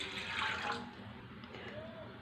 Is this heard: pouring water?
yes